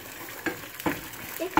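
Eggs are stirred and mixed in a bowl for scrambled eggs, with a few soft, scraping strokes over a faint, steady background hiss.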